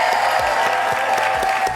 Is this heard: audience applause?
yes